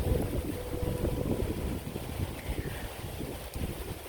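Steady, blustery wind roars across the microphone, a constant low rumble with gusty buffeting throughout and no voices.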